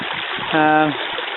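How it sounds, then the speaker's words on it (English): A small brook on Dartmoor flows with a steady, close, hissing trickle, and a brief tonal hum rises over it midway. "I just thought I'd film this little brook."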